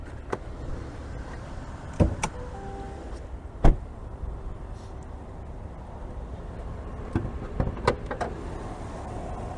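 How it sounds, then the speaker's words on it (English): A few sharp clunks and latch clicks come from opening the hood of a 2022 Chevrolet Silverado 1500 LT Trail Boss pickup, scattered over a quiet outdoor background with one louder thump near the middle. "Let me go ahead and pop that hood."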